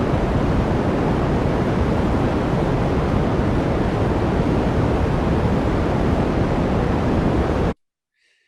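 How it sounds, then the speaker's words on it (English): White noise picked up by a radio antenna: a loud, steady, even hiss of static that holds unchanged and then cuts off abruptly just before the end. "It just sounds just a white noise,"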